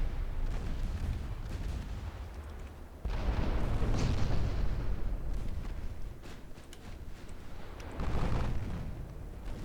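Naval guns fire in the warship game Ultimate Admiral Dreadnought, heavy booms rolling into a continuous low rumble with a couple of louder swells, no voices.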